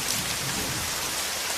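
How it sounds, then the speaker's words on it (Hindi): Heavy cartoon storm rain pours down in a steady, dense hiss, loud and continuous with no voices over it. "उस तूफान के साथ जोर से बारिश भी होने लगती है।"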